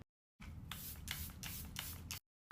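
A close makeup setting spray mist hisses steadily in a few quick pulsed sprays for about two seconds, then stops.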